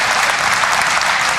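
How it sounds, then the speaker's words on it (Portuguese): Loud, dense clapping from a church congregation applauding in worship of the Lord during a sermon, a continuous close wall of hands with no voices. "Vamos, aplauda para adorar ao Senhor."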